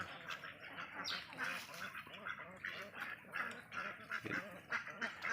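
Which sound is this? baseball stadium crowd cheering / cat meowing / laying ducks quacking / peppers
laying ducks quacking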